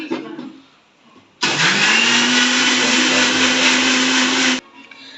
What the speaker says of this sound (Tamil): இது தக்காளி தனியாக போட்டு அரைக்கிறாங்க அந்த சாரில்.